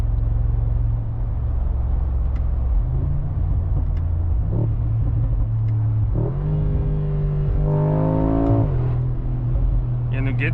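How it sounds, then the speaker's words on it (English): A 2025 Mercedes-AMG G63 with its twin-turbo V8 rumbles at a steady idle, then surges through rising revs under acceleration, the exhaust note climbing and dropping near the listener, with a voice talking over it. "And you get this sort of like frequency from the exhaust."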